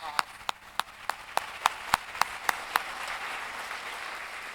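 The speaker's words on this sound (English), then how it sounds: "Let's give them a round of applause" Applause for sixty finalists at a children's speech competition finals, a run of about ten distinct loud claps in a steady rhythm over a softer wash of scattered clapping that continues after the sharp claps stop.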